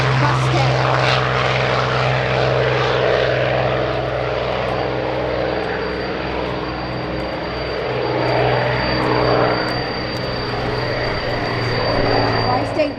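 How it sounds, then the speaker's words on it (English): A P-51D Mustang warbird, the Cincinnati Miss, drones steadily in flight with a loud, continuous piston-engine and propeller roar that swells and eases slightly throughout, with faint voices beneath it. "today, he's going to fly you in a P-51D Mustang"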